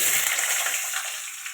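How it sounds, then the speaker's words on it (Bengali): Potatoes frying in a wok, a steady broadband sizzle of hot oil that is loudest at the start and eases slightly over the short stretch, with no talk. "তার জন্য কড়াইতে আলুগুলো ভেজে নেব।"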